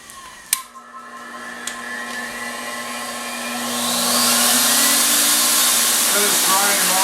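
A Commander dog dryer blows on a dog's coat and feet with a high, steady airy whoosh. A few light clicks come first, then the airflow swells louder and continues alone.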